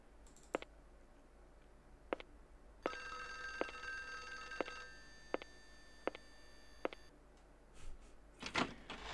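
A telephone rings in the PC horror game Clock Tower, with a steady electronic trill repeating for a few seconds between isolated sharp clicks from the game, quiet and with no talk.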